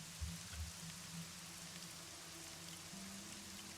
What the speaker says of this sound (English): the rain gets harder around the outside